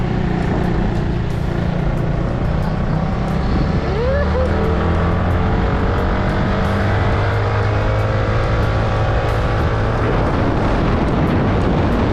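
Yamaha Mio motorcycle engine running steadily up close, a continuous rumbling drone that holds from start to finish, with small shifts in pitch partway through.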